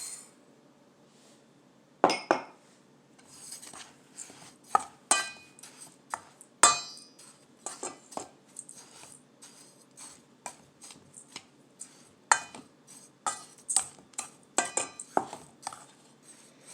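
A utensil mixes baking soda and dry ingredients in a bowl for banana crumb muffins, making irregular bursts of clinks and taps against the bowl. The clinks vary in loudness over a quiet background, and no one speaks.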